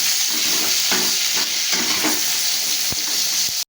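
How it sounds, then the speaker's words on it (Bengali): Cut brinjal fries in a pan with a loud, steady close-up sizzle and hiss, punctuated by scraping stirs and a couple of sharp taps before it cuts off abruptly. "বেগুনটা একটু ভাজা হোক তারপর আমি বেটে রাখা মশলাটা দিয়ে দেবো"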